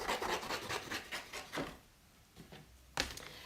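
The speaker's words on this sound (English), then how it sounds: "So I'm just going to trim that away from my white card there." White card stock being trimmed, giving a series of close, dry scraping and rasping strokes, then a short pause and one final sharper cut, with nobody speaking.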